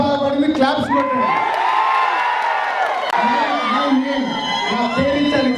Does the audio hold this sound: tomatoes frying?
no